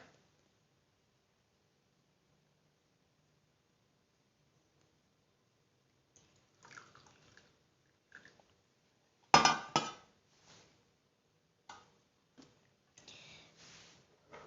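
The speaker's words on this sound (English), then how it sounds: "And finally stir." A spoon clinks against a glass while tea is stirred, several sharp, light taps and rattles starting after a long quiet stretch, close and faint, with one louder cluster of clinks in the middle.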